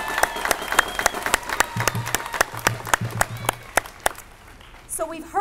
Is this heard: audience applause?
yes